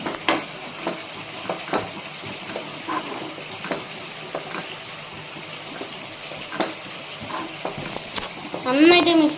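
Spice powders are stirred into beef frying in a pan, making a moderate sizzle with repeated scraping strokes. A voice speaks briefly near the end over a short rush of sound.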